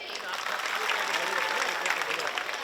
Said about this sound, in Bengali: আমরা নিজেদের জন্য একটা জোরে করতালি দেই